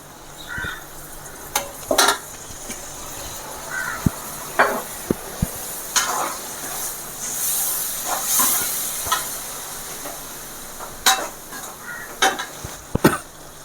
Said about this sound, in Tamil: இந்த நேரத்தில் நம்ம வினிகரியும் இதில் ஊற்றி அப்படியே கிண்ட வேண்டியதாக